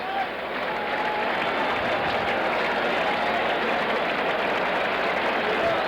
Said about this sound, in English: the crowd getting excited again